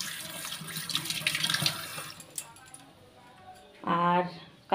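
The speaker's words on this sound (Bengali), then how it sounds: "মাছটা বেসিংয়ে রাখি, হাতটা ধুয়ে নিই তারা।" Water from a sink tap runs briefly while hands are washed after placing a catla fish in the basin, a short near burst of splashing near the end following quieter handling sounds.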